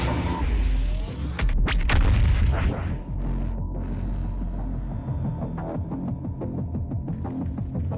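A BFG 10,000 fires in a shooter game: a huge roaring blast with heavy low rumble, followed by a lingering throbbing hum and scattered crackles as the discharge fades.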